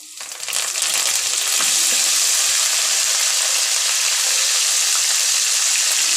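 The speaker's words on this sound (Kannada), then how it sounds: "ಇವಾಗ ನಾನು ಅದಕ್ಕೆ ಒಂದು ಅರ್ಧ ಟೇಬಲ್ ಸ್ಪೂನಷ್ಟು ಜೀರಿಗೆ ಹಾಗೆ ಒಂದು ಎಸಲು ಕರಿಬೇವು" Cumin seeds and curry leaves drop into hot oil for pulao, bursting into a loud, close, crackling sizzle that quickly settles into a steady hiss without any talk.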